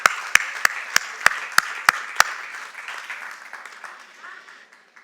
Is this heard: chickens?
no